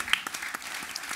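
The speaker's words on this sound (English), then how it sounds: "A little round of applause for our two guests." A small audience at a London debate claps briefly for two guests, a quick patter of separate claps at moderate level.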